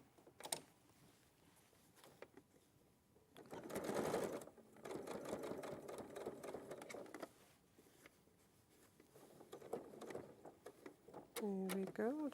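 A sewing machine top stitches fabric in bursts of rapid mechanical whirring, loudest in a long central run, with people talking over and between the runs.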